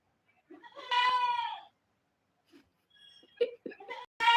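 Goats bleat nearby: one drawn-out, wavering bleat, then a pause followed by shorter, choppier calls, with quiet background between them.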